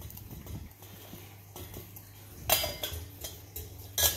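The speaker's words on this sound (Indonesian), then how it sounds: "Kita pasang lagi tutupnya." A metal lid set back onto a pot of just-boiled water for Vietnamese drip coffee, giving a couple of sharp clinks near the end against quiet kitchen background noise.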